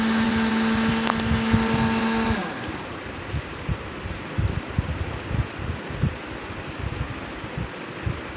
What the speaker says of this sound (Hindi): ये जो साबुत नज़र आ रहा है इसको वापस से डाल के पीस लूँगी